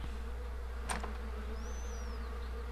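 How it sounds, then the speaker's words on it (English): Bees buzz outside a house in a life-simulation video game, a soft continuous insect drone over a low hum, with a brief faint chirp partway through. "Boy, I can hear those bees out there."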